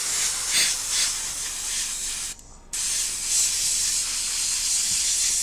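An airbrush sprays paint onto hobby miniatures in a steady, close hiss that cuts off briefly and then resumes at the same level.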